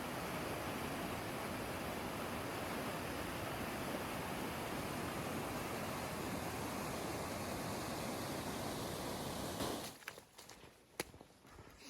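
A waterfall roars in a wet British winter woodland, a dense, steady wash of falling water that cuts off abruptly near the end, leaving a few faint knocks and rustles.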